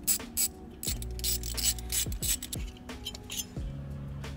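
Ratchet clicking in bursts as three 10mm bolts are backed out of the shifter lockout plate on a 2022 GR86/BRZ, with short metallic clinks of bolts and tools between pulls, close and moderately loud.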